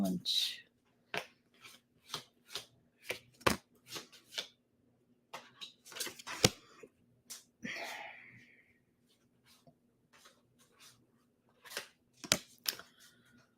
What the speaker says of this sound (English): So I am going to pull some cards off from this deck.